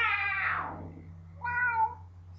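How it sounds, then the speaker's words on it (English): A cat meows twice, a longer drawn-out cry followed by a shorter one after a brief pause, close and fairly quiet over a low steady hum. "He keeps meowing at me"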